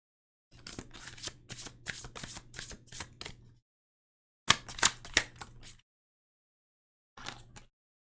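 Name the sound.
tarot cards being shuffled and drawn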